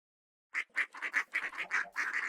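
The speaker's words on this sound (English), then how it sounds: "We got ducks." Ducks in the video game Craftamari quack in a rapid run of about a dozen nasal calls, close and fairly loud, starting after a brief silence and continuing without pause.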